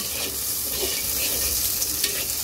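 Onion frying in hot oil for a fish curry, a steady dense sizzle with faint stirring, close and continuous, no talk.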